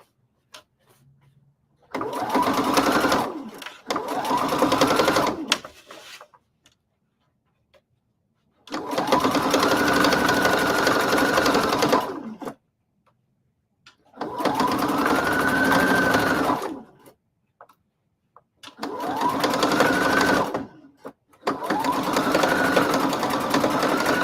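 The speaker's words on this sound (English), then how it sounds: "Now my machine automatically does a lock stitch, so I don't have to back stitch." A home sewing machine stitching a denim corset with an automatic lock stitch, running in five separate bursts of steady whirring, each a second or few long, with quiet pauses between them, close and alone without talk.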